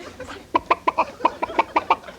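A comedian imitates a chicken with his voice, giving about nine sharp, evenly spaced clucks in quick succession, close and clear with no other talk.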